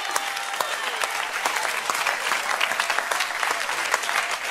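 A congregation at a church service claps, many hands beating at an irregular rhythm that stays at a steady level throughout, with no voices heard.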